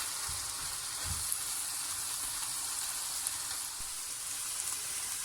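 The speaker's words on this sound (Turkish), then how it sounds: "Baharatları özleşene kadar karıştırdım. Pırasamız kavruldu." Leeks and spices, including red pepper flakes, sizzle steadily in a pan as they are stirred, a dense, even frying hiss with a few soft scrapes and no talking.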